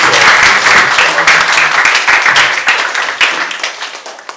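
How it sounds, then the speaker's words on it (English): Loud audience applause at a technology entrepreneurship training event, a dense wash of many hands clapping close by that thins and fades toward the end. "A round of applause"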